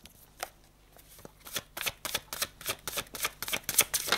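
Tarot cards shuffled and drawn by hand, a few soft flicks at first, then a steady run of crisp, close riffling snaps that grows louder and quicker toward the end, with no voices.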